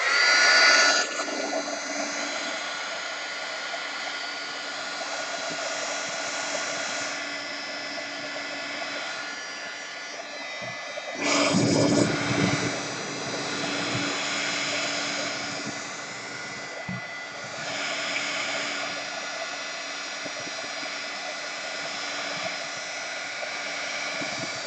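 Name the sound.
drying gouache painting with a dryer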